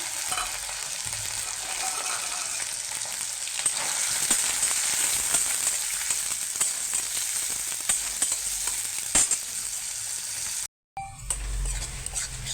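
Chopped onions with asafoetida water fry in a pan, a steady close sizzle with occasional stirring scrapes throughout, briefly cutting out near the end.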